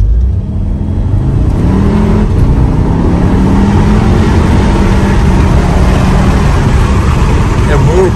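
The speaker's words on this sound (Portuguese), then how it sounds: "Dá uma olhada na performance disso aqui," A Volkswagen Fusca TSI, stage 2 tuned by Armada Performance, accelerating hard in drive. The engine drones loud and close with a steadily rising pitch, and faint voices sit underneath.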